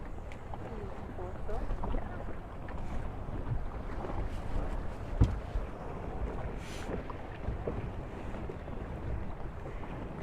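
Class 40 racing sailboats on open water at a race start, with steady wind and water noise around a boat, a soft bump midway, and voices talking in the background.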